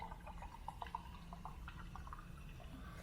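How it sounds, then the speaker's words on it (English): Icy club soda pours into a glass with a quiet, bubbly trickle and scattered fizzy pops, faint and close, with no talking. "pour about 12 ounces in that glass, 11 ounces maybe"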